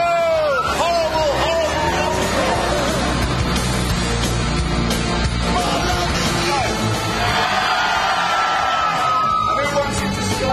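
A crowd at a UK car auction-style event yells, whoops and bellows to send a car away, loud overlapping shouting voices and hubbub filling the whole stretch.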